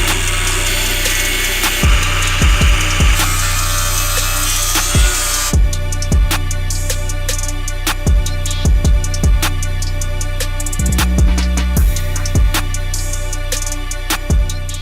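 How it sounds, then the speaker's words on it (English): A power tool cuts through the front core support of a Nissan 300ZX, a loud continuous cutting drone followed by a busier stretch of sharp metallic clanks and knocks, with no voices. "we've got a little bit of fab work to do on the front core here. So this is going to get cut and then cleaned up"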